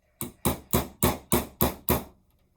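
A hammer drives a nail through a tin can with six sharp, evenly spaced metallic strikes about a third of a second apart, close and clear, then silence.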